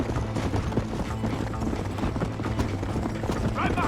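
Horse galloping in the video game Red Dead Redemption, a steady rapid clip-clop of hooves running throughout with faint game ambience and a voice briefly in the background.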